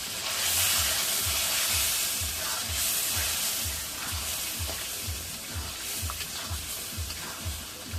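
Spiced meat curry, seasoned with chili powder and salt, sizzles steadily in a pan while being stirred, with a loud continuous frying hiss and regular scraping strokes of the spoon throughout.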